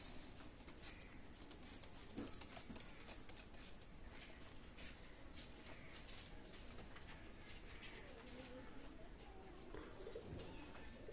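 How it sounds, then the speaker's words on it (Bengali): Teddy blood-line pigeons coo softly in a loft among constant background noise and rustling, with someone talking faintly now and then. "মাশাআল্লাহ কবুতর।"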